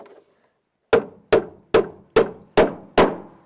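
Six sharp hammer blows drive nails into wood, evenly spaced and loud, each a crisp close knock with a short ringing decay, after a brief quiet start.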